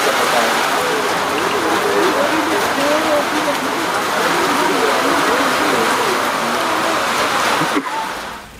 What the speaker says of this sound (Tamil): பல்வேறு பகுதிகளிலும் மிதமான மழை பெய்தது